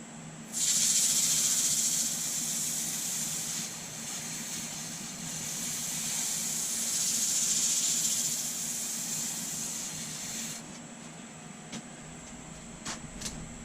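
Sanding a granadillo wood bowl with abrasive paper produces a steady, close hissing rasp lasting about ten seconds, swelling and easing slightly as passes change before cutting off, with faint clicks afterward.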